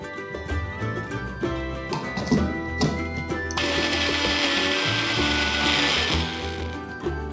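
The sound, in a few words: mixer grinder blending a sweet paste without water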